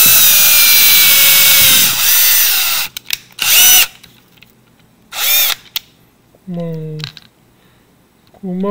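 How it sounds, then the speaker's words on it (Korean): Electric drill boring holes for an MG995 servo pan-tilt mount, with a loud sustained whine, then short bursts of drilling separated by pauses and a few light clicks and handling sounds. "드릴을 이용해가지고 구멍을 요런 식으로"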